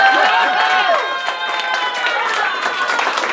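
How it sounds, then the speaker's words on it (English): A crowd at a New York cosplay cabaret applauds a performer dressed as Mrs. Maisel, steady dense clapping with scattered cheers and shouting voices throughout. "Some applause for Mrs. Maisel, please."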